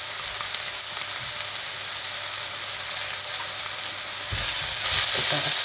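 Garlic dropped into a hot pan of frying onions and mushrooms for a bhuna curry, a steady close sizzle and crackle that swells louder as the garlic hits the oil.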